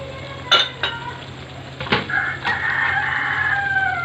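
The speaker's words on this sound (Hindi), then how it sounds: "आप लोग ये मुर्गियों की आवाज़ सुन रहे हैं।" Hens cluck and call in the background, with a rooster-like crow rising later, over sharp clinks of pots and utensils nearby as a potato, meat and bean dish cooks at home.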